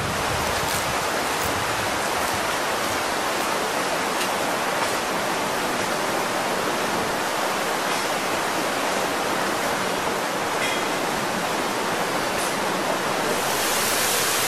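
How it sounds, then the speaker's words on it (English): A small waterfall at Las Margaritas Springs pours with a constant, dense hiss of falling water, steady and close throughout. "This is the small waterfall, and this is nice."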